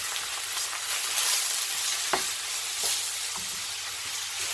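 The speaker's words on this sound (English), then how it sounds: "Let's just spin that around a bit, get that garlic off the top there and in." Lazy garlic stirred in a pan while a fillet steak cooks, a steady, close hissing sizzle with a few soft scraping and tapping touches from the stirring.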